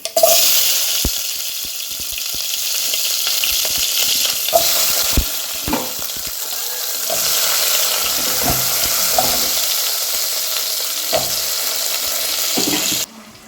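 Steady crackling sizzle of mustard seeds, cumin and shallots frying in hot oil, with occasional stirring clinks and scrapes, close and continuous throughout.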